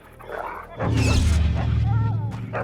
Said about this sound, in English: Oh no, the dog! I heard him.